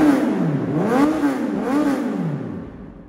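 A 2018 Honda CB1000R motorcycle engine revs up and down twice through a throaty aftermarket exhaust, rising and falling in pitch before settling back toward idle.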